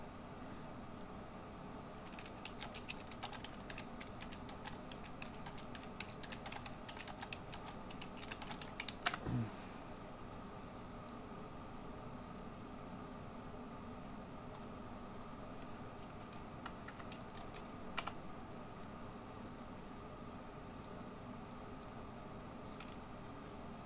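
Steady, continuous typing on a computer keyboard, close and fairly quiet, with a few louder key clacks around the middle; no talking.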